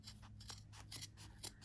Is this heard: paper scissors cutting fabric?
yes